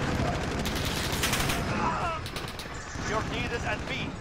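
A Harrier jet firing on the player in a first-person shooter, heard as dense, sustained rapid gunfire bursts over a continuous low rumble, with a player talking over the din.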